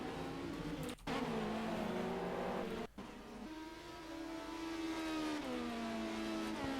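Race cars in the rFactor 2 sim racing game at Silverstone accelerate together, their engines droning loud and continuous with shifting pitch as gears change, cut by two brief dropouts.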